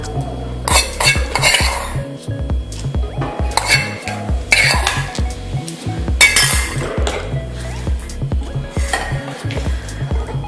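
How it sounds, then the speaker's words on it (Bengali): Metal utensils clatter and clink against a pot and bowl while fried tempering is stirred into South Indian coconut chutney, a busy run of close, repeated scrapes and taps with short pauses between. "এবার এই ভাজা ফোড়নটা আমি আস্তে আস্তে মিশিয়ে দিলাম।"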